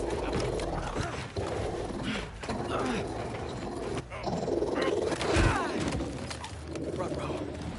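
A robot dog growls and whirs in the Spider-Man 2 video game, a dense mechanical snarl mixed with gear-like grinding under game noise and talking voices, continuous and close.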